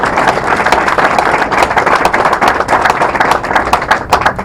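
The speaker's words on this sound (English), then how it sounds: "So we can just give a round of applause to them." Audience applause for a panel at a State of the Towns community meeting: dense, steady clapping from many hands, loud and sustained throughout with no talk over it.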